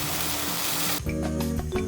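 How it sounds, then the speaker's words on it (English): Steak and pork belly sizzle up close on a grill, a loud, steady hissing crackle that shifts partway through to a softer sizzle with clinks and pops, no talking. "listen to that sizzle"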